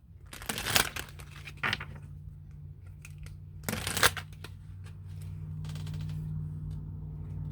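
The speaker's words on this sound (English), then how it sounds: "Let's pull a Making Magic card." Making Magic oracle cards are shuffled close up in two brisk riffling bursts, followed by softer handling as a card is pulled, with no talk.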